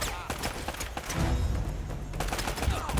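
Enemy gunfire in Uncharted 3, several shooters firing at once in quick irregular cracks and thuds, fairly loud and close, with a voice briefly talking over it.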